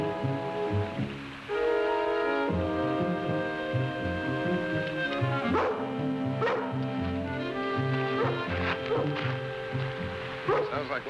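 Lassie, a dog, barking and whimpering near a stream blocked by a beaver dam outdoors: repeated close yips and barks in an uneven run over a steady outdoor hum.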